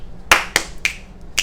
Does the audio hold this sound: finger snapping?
yes